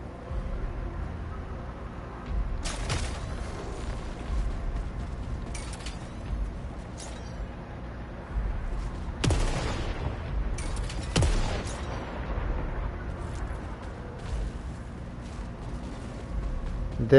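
The Eruptor hand cannon fires in the video game Saros, several heavy booming blasts at irregular intervals over a continuous rumbling game soundscape, loud and close.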